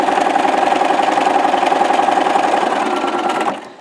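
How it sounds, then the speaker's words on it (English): A sewing machine runs steadily while stay stitching a 5/8 inch seam around three sides of a fabric pocket piece, a loud, close, even motor whir with rapid needle clatter that slows and stops near the end. "you're going to stay stitch around the whole pocket piece of your fabric"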